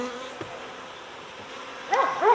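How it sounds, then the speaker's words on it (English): A close, steady buzz of honeybees in an apartment storage ceiling that swells louder near the end, with no voices present. "Now we're getting into more of the bees here."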